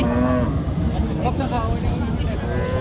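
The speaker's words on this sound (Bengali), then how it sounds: "চৌগাছার গরুর হাট থেকে বড় গাভী" A large dairy cow moos loudly and repeatedly at the Chougachha cattle market over a busy crowd murmur, with people talking close by throughout.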